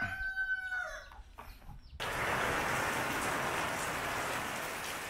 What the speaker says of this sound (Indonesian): Akhirnya turun hujan kawan-kawan.